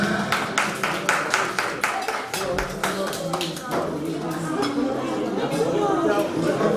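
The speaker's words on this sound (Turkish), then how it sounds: "Alkışlara gelsin gençlerimize." Clapping and applause from guests at a Turkish circumcision ceremony, a steady run of sharp hand claps under a talking voice, fading into a busier crowd wash.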